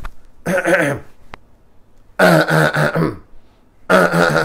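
A man clears his throat in several short raspy bursts, close and fairly loud, separated by brief silences and a sharp click.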